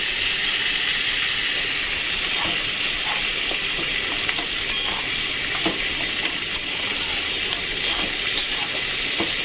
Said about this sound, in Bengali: দেখুন ঢাকনাটা খুলবো, খুলে এবার নুনটা মিশিয়ে দেবো।